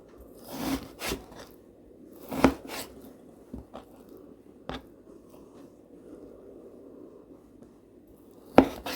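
Meat being cut into small pieces for plov, with a handful of sharp, separate chopping knocks spaced irregularly against a quiet background and no voice.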